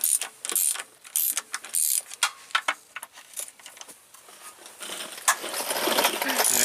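A ratchet working 10 mm bolts loose around a transmission pan, heard as quick bursts of close mechanical clicking that come and go, with some clanking toward the end.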